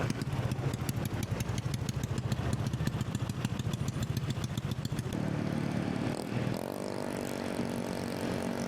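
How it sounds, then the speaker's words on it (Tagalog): Loud motorcycle engines rumble and buzz in heavy Saturday traffic on a bypass road toward Tagaytay, a rapid pulsing drone for the first half, then a smoother revving hum that settles and fades slightly. "Napakaingay din ng motor"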